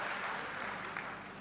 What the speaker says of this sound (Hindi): ताली बजाना तो ऐसी बजाओ कि लगे कि ताली बजी है